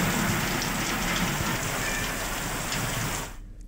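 Heavy, steady rain pours down in a broad continuous hiss that fills the scene, then drops away sharply near the end.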